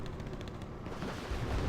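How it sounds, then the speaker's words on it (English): Machine gun fire in the Wargame: Red Dragon video game, a dense rapid rattle of shots over a rumbling battle din, loud and continuous for a brief burst. "K1 takes out the UAZ and starts engaging the Mi-25 with its machine gun"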